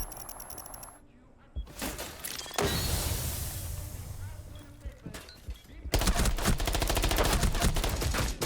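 Bursts of rapid automatic fire from a recoil-free gun in a shooter game, with a long loud spray midway and another dense burst near the end, separated by quieter stretches with a voice in between.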